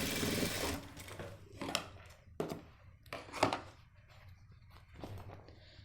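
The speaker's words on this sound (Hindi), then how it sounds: "ऐसे ही हम यहाँ सिलाई मारेंगे।" A sewing machine stitches a jacket side seam in several short, separate bursts, each a quick mechanical whir followed by a pause, heard close and alone.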